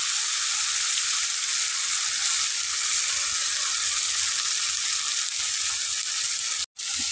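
Tomatoes and turmeric powder fry in a pan while being stirred with a spatula, giving a steady, even hiss of sizzling oil that carries on unbroken, fairly soft, with no voices.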